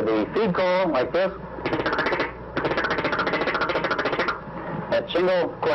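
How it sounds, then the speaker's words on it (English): Duck call blown at a duck hunting pond in a loud, close feed call, a fast rolling chatter of clipped notes in long unbroken runs with brief quacky notes at the start and end. "Now the feed call, like this."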